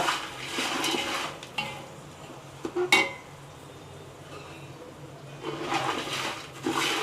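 A roasted poha chivda mixture with salt and turmeric is stirred in a metal pan. Soft scraping and clinking strokes come in bursts, fairly quiet and close, with no talking.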